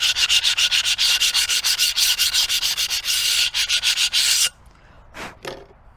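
A cut tile edge is sanded by hand with a low-grit abrasive, giving rapid, rhythmic close-up scraping strokes that stop partway through, followed by silence and two short, softer rubs.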